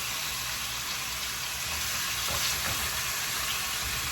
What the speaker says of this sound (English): I just want a sear on it because it's going in the oven.